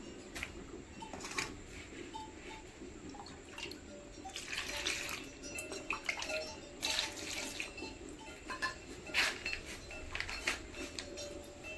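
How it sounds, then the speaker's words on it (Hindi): Water is poured over vegetables in a village kitchen, splashing and trickling in uneven bursts alongside clinks of a metal pot, close by. "तो चलिए यहाँ पर अब पानी डालना है"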